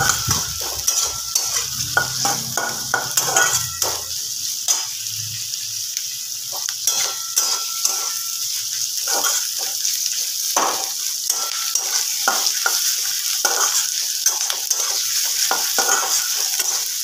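Onions frying in oil in a pan while chicken is cooked, a steady close sizzle broken by frequent scrapes and clicks of stirring, with no talking.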